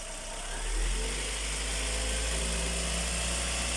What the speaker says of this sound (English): that's the car idling with the brake booster pipe